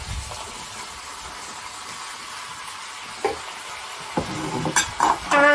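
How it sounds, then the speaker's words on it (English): Apples go into a pan of sizzling sautéed onions and browned pork, a steady frying hiss rising into louder crackles and spits as the fruit lands. "we're going to add in these apples to give it some nice juice"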